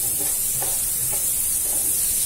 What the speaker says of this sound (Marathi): कांदा थोडा लाल होईपर्यंत परतवायचा